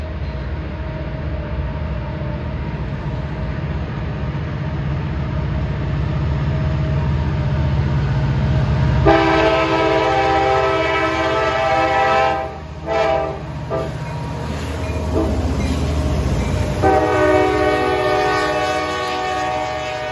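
A train with EMD locomotives rumbles past with steady rail clatter, then a loud multi-tone horn blares for several seconds, cutting out briefly and sounding again.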